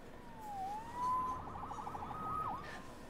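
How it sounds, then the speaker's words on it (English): A police siren in the video game Spider-Man on PS5 wails in rising and falling sweeps over a low rumbling background, with no talking. "Saved by the siren."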